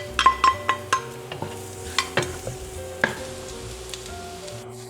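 Garlic goes into hot oil left from frying tofu, with close sizzling and frying under several sharp stirring clinks against the pan, quick at first and then spaced out.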